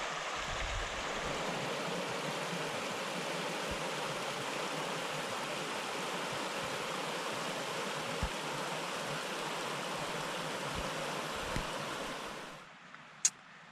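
Steady rushing of a stream flowing by a bridge in the Scottish Highlands, constant and fairly loud throughout, fading out near the end with a faint click.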